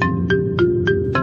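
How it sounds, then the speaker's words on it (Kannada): A phone rings indoors, loud and close, its electronic tone pulsing in five short even bursts with no talk over it. "ಫೋನ್ ಬರ್ತಿದೆ"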